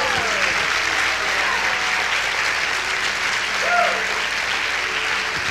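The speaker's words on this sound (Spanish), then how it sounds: "denle un aplauso al Señor" A church congregation applauds for the Lord during an energetic Spanish-language sermon, steady dense clapping throughout with a faint voice and a brief whistle-like tone rising over it.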